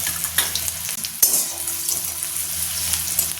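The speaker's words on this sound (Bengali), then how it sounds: "হালকা করে পেঁয়াজটা ভেজে নেব" Onion fries lightly in hot oil with dried chilli in a home kitchen, giving a steady, close crackling sizzle with a couple of faint utensil scrapes against the pan and no talking.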